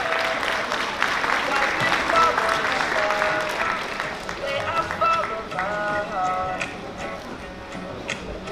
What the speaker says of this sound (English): Let's give it up. Warm round of applause.